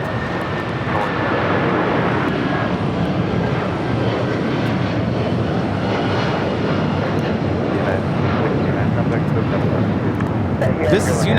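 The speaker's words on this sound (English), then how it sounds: "That is 757 now taking off on 25 right." Boeing 757 takes off from runway 25 right at LAX with a loud, continuous jet roar close by, steady throughout, while voices talk over it.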